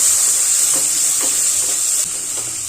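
Garlic ginger paste sizzling in a hot pan, a steady bright hiss with a few soft stirring scrapes, loud and close, easing slightly toward the end with no talking.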